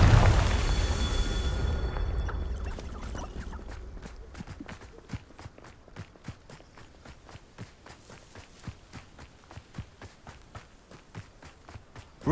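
Confringo blasting spell explosion from the Hogwarts Legacy video game: a loud rumbling blast opens, then decays into a long run of rapid, even crackling ticks and small pops continuing to the end.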